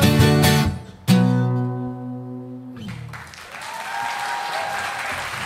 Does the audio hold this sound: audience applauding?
yes